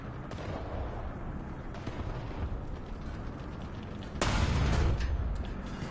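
Tank cannon and battlefield gunfire in the combat video game War Thunder, a dense rumbling barrage with a heavy, louder blast partway through, continuous and full with no voices heard.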